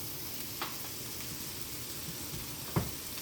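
Broccoli and Brussels sprouts sizzle in a stir fry over a flame thrower grill, a steady hiss throughout with two brief clatters of stirring, close and moderately quiet, no talking.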